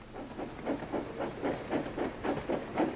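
A tram played back from a recording, a steady rail rumble with rhythmic clacking wheel beats roughly every third of a second and a hissy wash over it, loud and continuous without talk.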